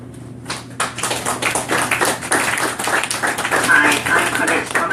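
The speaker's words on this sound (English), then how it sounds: "give her applause as if she is here with us over the airwaves" Applause at a book launch held at a café builds from scattered claps into a sustained patter of an audience clapping together, fairly close, with some voices mixed in.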